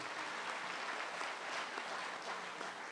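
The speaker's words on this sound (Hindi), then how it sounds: "इनके लिए बहुत सी तालियाँ।" Applause from a comedy show audience in Muscat fills the whole stretch, a dense, steady wash of many hands clapping at an even level with no break.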